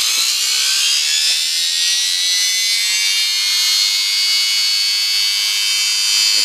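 A homemade rotary transformer motor runs off a 12 volt battery bank with a steady, loud, high-pitched whine and hiss, continuous and unchanging throughout with no voices.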